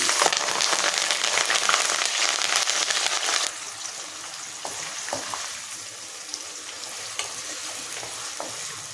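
Chopped onion and curry leaves frying in oil for chicken curry: a loud, dense sizzle that drops to a quieter, steady crackle partway through, with a few light stirring clicks.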